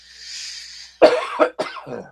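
A man coughs close up, a short burst followed by two more harsh coughs in quick succession, after a faint hiss of background noise.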